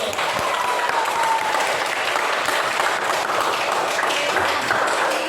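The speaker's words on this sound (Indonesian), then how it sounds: "Oke, kita kasih tepuk tangan dulu." A class claps steadily for a group, producing a dense, continuous patter of applause that holds at an even level throughout.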